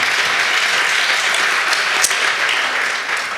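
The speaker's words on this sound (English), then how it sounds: "we'll give them all a round of applause" An audience at a Merced County schools report event gives a round of applause for visiting officials, a steady wash of many hands clapping with no voices over it.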